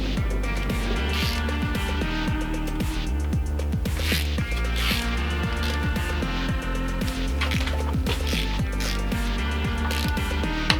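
A ratchet clicks rapidly and repeatedly while tightening engine bolts during a VW 2.0T TSI engine rebuild, dense, close mechanical pawl ticking in quick bursts with no talking.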